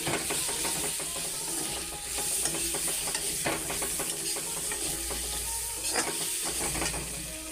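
Spices and potatoes frying in a pan for an egg bhapa curry, a continuous soft sizzle and hiss under repeated scraping and stirring clicks of a spatula, fairly quiet and steady throughout.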